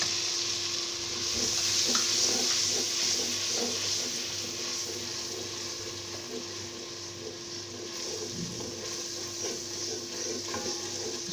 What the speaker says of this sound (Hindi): इसको अच्छी तरह भून लेना है पहले प्याज को, क्योंकि इसका कच्चापन ना रहे।